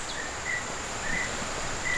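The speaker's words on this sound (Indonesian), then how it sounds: "Suara burung kayaknya tuh." Short, high chirping calls repeat every half second or so over a steady insect-like hum, sounding fairly distant outdoors.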